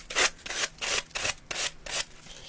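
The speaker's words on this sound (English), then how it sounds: "The joy of a new sanding pad." A new sanding pad rubbing back and forth on an MDF Christmas bauble in five rhythmic, rasping strokes, close and fairly loud.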